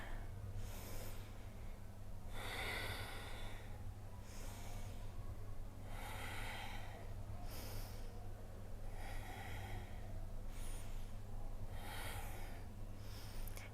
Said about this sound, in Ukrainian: Дихаємо, не затримуємо дихання.